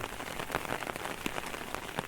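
Early monsoon rain patters steadily onto a village pond in Kumbhavade, Rajapur, a dense continuous hiss of drops with scattered louder splats, close and uninterrupted.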